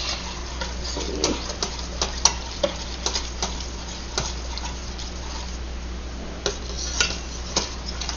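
A spatula scrapes and taps the bottom of a cooking pot of orzo, giving irregular light clinks and scrapes over a steady low stovetop hum.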